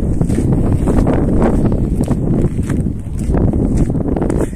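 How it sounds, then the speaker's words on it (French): Strong outdoor wind buffeting the microphone, a loud, constant low rumble with gusty swells and faint rustling, and no speech over it. "il y a du vent."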